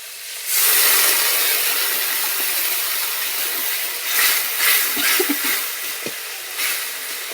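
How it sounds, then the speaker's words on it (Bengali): Water poured into spice paste frying in a pan for a Bengali rupchanda fish curry sets off a loud, steady sizzling hiss that rises sharply and then holds, with a few small pops and clinks near the end. "যতক্ষণ না মশলার কাঁচা গন্ধটা বের হয় ততক্ষণ আমি নাড়তে থাকবো আমি হালকা করে একটু জল দিয়ে দিচ্ছি"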